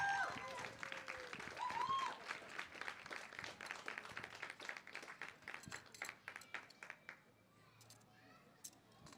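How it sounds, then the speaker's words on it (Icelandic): A crowd at a classic bench press competition claps and applauds steadily for a placed lifter, the applause slowly thinning out toward the end. "Gefum henni gott klapp."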